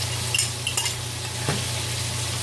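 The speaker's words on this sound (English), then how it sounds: "Now I'm going to go ahead and add the saltfish." Saltfish stirred into ackee sauteing in a pan, with a steady close sizzle under a few scrapes and clinks of the utensil against the pan, no talk.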